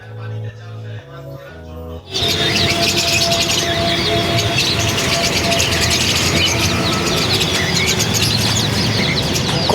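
A few short tonal notes, then a dense chorus of many birds chirping and calling at once, loud and continuous, with a faint coo among them.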